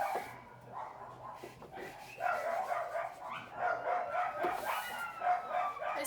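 Several dogs barking in repeated bursts a short distance away, the yapping rising and falling over steady background noise with no talk.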